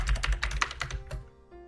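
Rapid clatter of typing on a computer keyboard, a quick run of close, crisp keystrokes that thins out and stops after about a second, with no talking.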